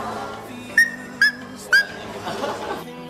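A boy imitates a dog with his voice, producing three short, evenly spaced yelping barks close to the mic, followed by faint murmuring.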